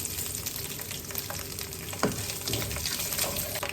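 Mustard seeds and grated coconut sizzle steadily in hot coconut oil while a chicken masala is prepared, a dense, close frying hiss with a sharper crackle burst midway.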